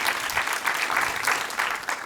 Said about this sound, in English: So now clap it up for him